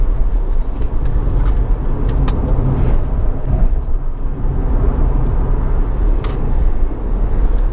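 An Ora Good Cat electric car with skinny tires climbing a mountain road, a loud, steady rumble of road and wind noise heard from inside the cabin, with faint ticks and knocks and no talking.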